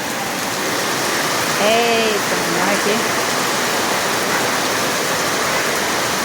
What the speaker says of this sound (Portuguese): E essa chuva?